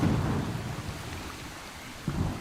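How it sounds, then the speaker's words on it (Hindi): Heavy rainforest downpour with thunder: a dense, steady roar of rain carries a low rolling rumble throughout, and a sharper thunder thump breaks in near the end. No voices. "तेज बारिश"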